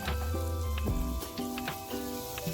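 Finely chopped tomato goes into a hot pan for masala khichdi and sizzles steadily for a couple of seconds, with a brief sharper burst near the start and no talking.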